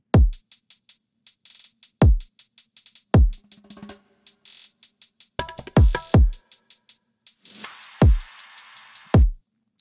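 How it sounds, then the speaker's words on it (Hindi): Tabla strokes used as fills within a Bollywood-style spooky music production beat, with sharp pitched hits falling in pitch recurring roughly every two seconds among rapid, regular percussive ticks and occasional swells, loud and alone with no talking. "जैसे तबले की बीट्स आपको सुनाई दे रहे हैं"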